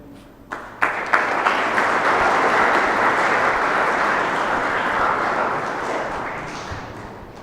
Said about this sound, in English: May we have a round of applause, a resounding round of applause for Swamiji.